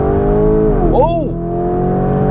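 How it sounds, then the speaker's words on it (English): A Lamborghini Urus SUV launches hard with launch control, engine roaring loudly and rising in pitch, then dipping through a quick gear change before pulling again; a brief voice exclaims over it. "Let's do launch control now."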